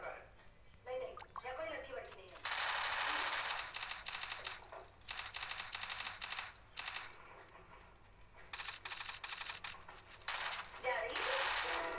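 SMG fire in the mobile shooter Free Fire: rapid automatic bursts crackling in several long strings with short gaps between them, close and sharp, with faint game sounds underneath.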